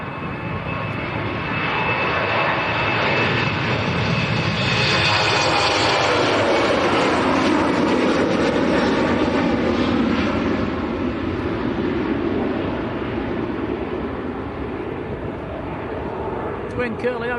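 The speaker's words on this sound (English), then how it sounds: "The next departure's on the roll. This is the Helvetic going out to Zurich." A Helvetic airliner bound for Zurich rolls down the runway and climbs away at Manchester Airport, its jet roar swelling loud mid-clip, then slowly fading, with a voice speaking over it.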